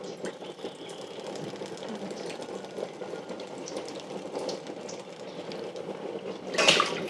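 Water and milk poured into a cooking pot for chai in an Indian kitchen, a continuous splashing flow at moderate volume with a brief louder burst near the end.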